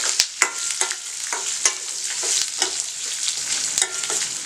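Onion, tamarind and chillies being sautéed in a pan for chutney: continuous close sizzle with sharp spoon scrapes and taps against the pan at irregular intervals, no voices.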